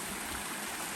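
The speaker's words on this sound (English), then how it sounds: "Little waterfall." Continuous rushing splash of a small waterfall into a pool in Litchfield National Park, steady and fairly close, with no other sounds.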